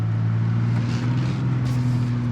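A 2022 Ford Bronco Raptor on a beach with its rear differential locked, spinning both rear wheels: a steady, loud low engine drone with strong humming tones, constant throughout and without speech.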